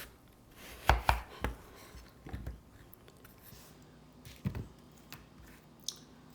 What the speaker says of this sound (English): Next we're going to chop an apple.